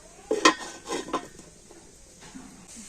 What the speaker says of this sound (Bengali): আর এবার আমি বিস্কুটের থালাটা নিয়ে স্ট্যান্ডের উপর বসিয়ে দেব।